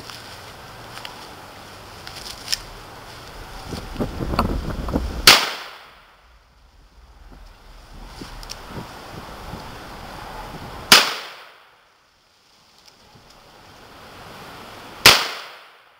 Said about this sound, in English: I will now fire three of the hand loads through the Model 25.